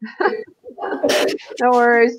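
A single sharp, loud sneeze bursts out partway through, set between bits of casual talk before and after it.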